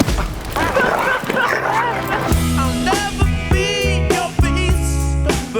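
A dog barking and yipping in short repeated bursts among overlapping voices and background music, fairly loud and close.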